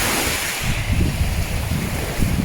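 Sea waves wash and churn close by, with a steady surf roar and strong wind rumbling across the microphone.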